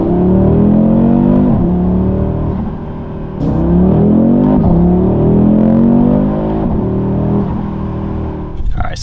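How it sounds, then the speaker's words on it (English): Audi RS3 with a modified exhaust revving in normal drive mode, heard from close by with the door open: repeated rising engine revs with a deep, droning exhaust note that dips between pulls, and a clatter at the end. "take a listen to it revving from here in the normal drive"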